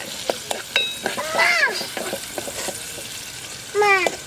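Fish frying in a pan in a village family kitchen, a steady broadband sizzle running throughout, broken by scattered crackles and pops and a few short stirring scrapes, close and fairly loud.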